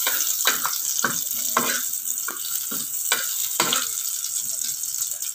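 Ingredients browning in a frying pan for a cabbage and shrimp dish, with a steady sizzle under repeated stirring and scraping strokes, close and fairly even throughout.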